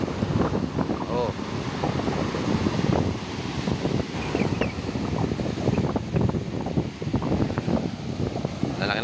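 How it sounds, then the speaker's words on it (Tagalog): Large typhoon-driven waves and strong wind buffeting a small boat at Tanza, a steady broadband roar with surging crashes beneath near, continuous voices talking throughout. "Grabe lalaki ng alon."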